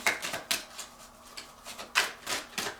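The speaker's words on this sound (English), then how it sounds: "This deck is difficult to shuffle." A tarot card deck being shuffled by hand gives a few quick, close riffling bursts separated by brief pauses, fairly soft and with no talk over it.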